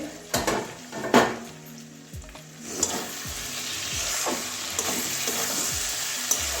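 Apple snails (gugli) with spices are sautéed in an uncovered pan. A hiss of frying runs under repeated scraping and clanking stir strokes that come every second or so.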